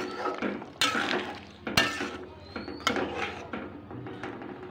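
Chicken curry is stirred in a pan after ground garam masala goes in, with repeated scraping strokes and sharp metallic clanks of a spoon against the pan over a soft sizzle.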